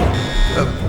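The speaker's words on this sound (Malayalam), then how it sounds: "അലാറം അടിക്കുന്നു." An alarm goes off in a film scene, a loud, steady electronic buzzing tone that holds without a break for about a second.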